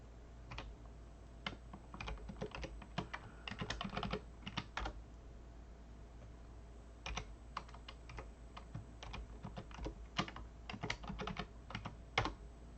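Typing a password on a computer keyboard: a quick series of light, close key taps in irregular bursts with short pauses, quiet over a low steady hum, with no talking.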